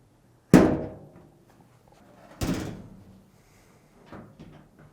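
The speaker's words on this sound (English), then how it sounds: "Continue to push forward until it locks back in place" Top cover of a Samsung dryer pushed forward until it locks, two solid hollow thunks about two seconds apart with a fainter knock after, close by in a quiet room.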